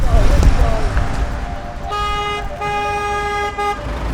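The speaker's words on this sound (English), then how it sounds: "the activists spotted a tanker driving in their direction" A tanker truck sounds a long steady horn note on a road, with a brief break partway through, over engine rumble and traffic noise. Voices can be heard earlier under the passing vehicle.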